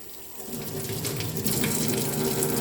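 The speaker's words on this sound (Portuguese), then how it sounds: "A mão está suja, eu venho e põe embaixo d'água." Water from a tap runs in a steady, moderate stream over a hand dirty with soil, close and continuous, growing slightly fuller after the start, with no speech.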